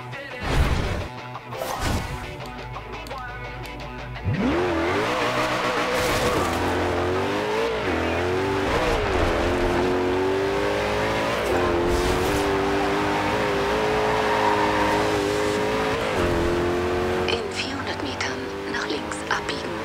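Race car from the video game Forza Horizon 2: after a few clunky impacts the engine roars up and holds a loud, shifting revving drone with tire squeal, while people talk over it.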